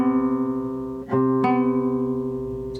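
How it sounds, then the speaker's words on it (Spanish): Two sustained tones sound together in a major seventh interval, struck twice with a brief break between attacks, steady and clear with no voices. "La séptima mayor."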